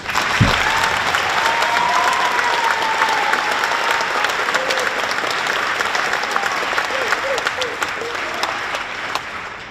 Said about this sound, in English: we're going to clap together